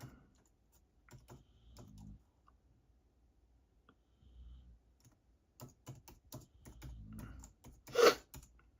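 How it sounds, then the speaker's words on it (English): Someone types on a computer keyboard in short irregular bursts of soft clicks, with quiet gaps between runs. One louder thump falls near the end. "Let me go ahead and type this."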